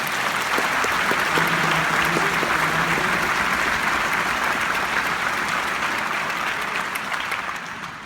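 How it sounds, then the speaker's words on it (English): A theater audience at a Tuba Christmas concert applauds for student performers, a dense, loud, steady clapping that holds for several seconds and then begins to taper off. "please give them a big round of applause"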